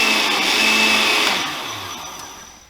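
A blender whirs loudly while mixing apple juice, orange juice and avocado with the seed in, a steady broadband drone that eases off and winds down toward the end, no voices.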